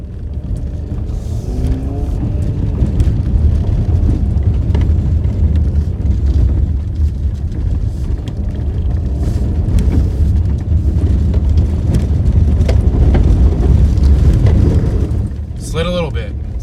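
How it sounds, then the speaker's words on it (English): A four-wheel-drive vehicle in sand mode drives steadily, with a constant loud low engine and tyre rumble that holds for the whole stretch before easing slightly near the end. "I'm putting in the sand mode,"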